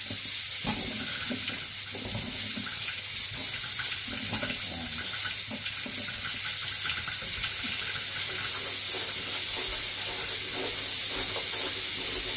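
Cut green papaya rinsed under a running tap, a steady rush of water with soft splashing and handling noises throughout, close and fairly loud.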